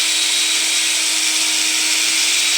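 An electric grinder pastes cumin and coriander for a curry, giving a steady, loud high-pitched whine that runs unbroken from start to finish with no talk.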